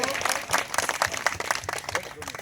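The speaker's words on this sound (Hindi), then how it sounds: "तालियां बजाएं सब लोग।" Group of people clapping together at a yoga class gathering with a fire offering ritual, a fairly dense burst of hand claps with voices mixed in, moderately near.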